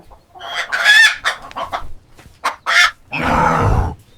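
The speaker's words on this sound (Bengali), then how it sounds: "আমি ডিম চেয়েছিলাম, মুরগি না।" Cartoon chicken sounds: loud, close, choppy clucks and squawks in quick bursts, ending in a longer drawn-out rooster-style crow.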